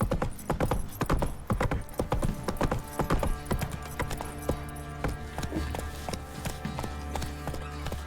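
The horse Roach gallops in The Witcher 3, steady rhythmic hoofbeats clip-clopping loud and close throughout, with a whinny and ambient game music underneath.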